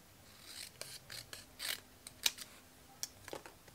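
Scissors cutting paper for a craft box, a series of short crisp snips and rustles close up in a quiet room, irregularly spaced.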